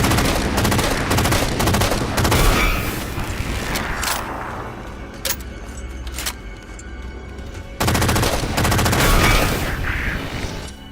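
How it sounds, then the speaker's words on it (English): Sustained rapid gunfire from the SAW machine gun in the Halo 4 shooter, loud and dense, fired at Forerunner watchers in the Shutdown mission, with a brief lull midway before the burst resumes at full strength. "you can go after the watchers with the saw"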